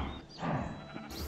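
A single short sheep bleat from Minecraft, fairly faint and alone, with a wavering nasal quality lasting about a second.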